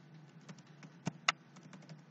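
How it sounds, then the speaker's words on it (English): A handful of computer keyboard keystrokes entering a number, sparse quiet clicks with a few sharper, louder taps over near-silence. "I'm just going to type it there"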